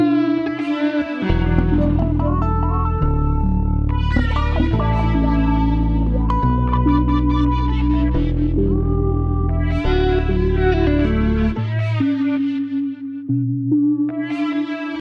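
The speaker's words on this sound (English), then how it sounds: "I added these guitars that you'll hear periodically through the song" Chopped guitar samples stitched into a melody, with ringing plucked notes and abrupt sample cuts over a deep, shifting bass drone; no voices.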